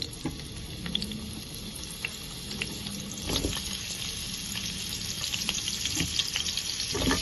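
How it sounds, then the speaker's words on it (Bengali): Potato and papaya pieces fry in plenty of leftover oil, a steady crackling sizzle with scattered pops and spits running throughout, close and moderately loud, with no voices. "তার মধ্যে আমি আলু আর পেঁপে ভেজে তুলে"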